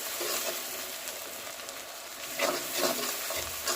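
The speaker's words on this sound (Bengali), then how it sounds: "পেঁয়াজটা হালকা ব্রাউন কালার করে নেব" Onions frying lightly in a pan until just browned, giving a steady low sizzle with a few louder stirring scrapes toward the end; no voices.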